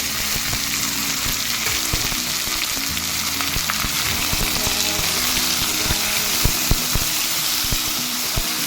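Eggplant pieces tipped into a pan of almost-browned onions with basic spices, giving a loud, steady sizzle of frying throughout, with a few stirring clatters and no talk.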